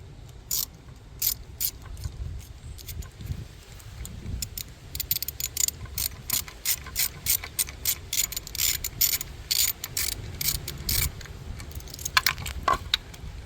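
A ratchet loosens a bolt on a Mercedes-Benz E250 M271 CGI engine, its pawl clicking in rapid repeated bursts between pauses, close and fairly loud, with faint handling noise underneath.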